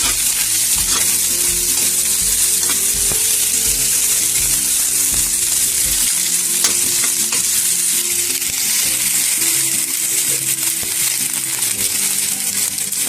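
Mixed vegetables frying with browned onions in a pan for oats khichuri, a loud steady sizzle throughout with stirring scrapes and clatter, no voices.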